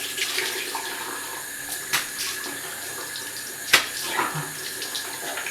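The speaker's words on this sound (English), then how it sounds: "the aggressive slap of water into the face, as opposed to just rubbing it in like a normal human" Water splashed and slapped onto a face during a facial washing routine, with running water under a few sharp wet slaps, one louder impact standing out near the end.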